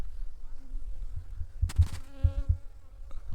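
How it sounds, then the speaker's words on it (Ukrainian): Honeybees buzzing faintly around apiary hives on a sunny day after winter, a few scattered insects droning past with one closer fly-by, under low outdoor background noise. "сьогодні вже поодинокі бджілки літають"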